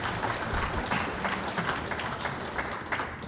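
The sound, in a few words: audience applause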